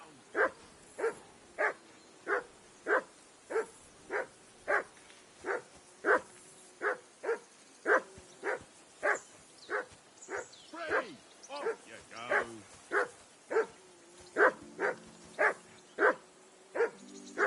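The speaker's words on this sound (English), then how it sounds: "That dog of yours is barking like the devil." A dog barks steadily and loudly, about twenty evenly spaced barks, while someone speaks over it.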